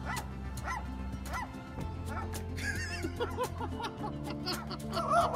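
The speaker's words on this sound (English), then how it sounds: "Now we have another seagull that perfectly imitates the barking of a dog." A seagull that has learned to bark like a dog gives a run of short yipping barks, fairly faint over background music, with a higher squawk-like call toward the end.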